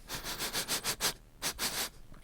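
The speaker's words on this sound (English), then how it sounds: "If you sniff, you breathe in through your nose" A person sniffing in through the nose, a quick series of about eight close breathy sniffs in a rapid rhythm, with a short pause before the last few, alone with no talking.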